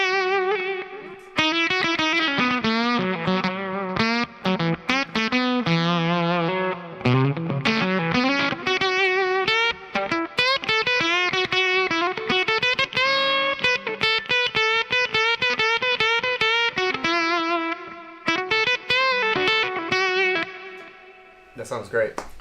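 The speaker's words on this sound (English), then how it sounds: "let's go ahead and turn it on to a full frequency boost, which is going to add gain because we got all that extra bass" Electric guitar run through a Moustache Audio boost pedal set to full frequency boost, giving a thick, bass-heavy, overdriven tone; busy chords and bluesy licks ring out loud and continuous for about twenty seconds with no talking.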